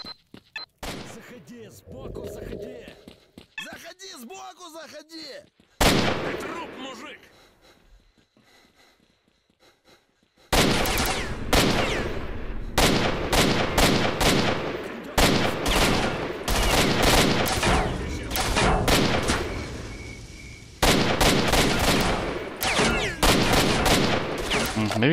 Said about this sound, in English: Let's kind of shoot slightly to the left.